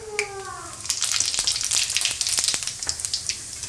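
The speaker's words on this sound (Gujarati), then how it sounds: "હવે તેલ ગરમ થઈ ગયું છે આપણું, તો વઘાર કરી લેવું. તો થોડુંક એમાં આપણે જીરું નાખીશું," Cumin seeds crackle and sizzle in hot oil for a Gujarati tempering, a bright, dense spatter with sharp pops, starting after a brief tonal sound and continuing steadily close by.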